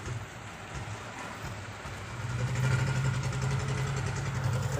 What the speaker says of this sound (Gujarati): અત્યારે જો એ વરસાદે ફૂલ ચાલુ થઈ ગયો છે